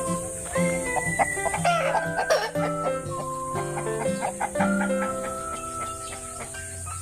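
Chickens cluck steadily while a rooster crows through the middle, with layered bird calls close by and busy farmyard noise throughout.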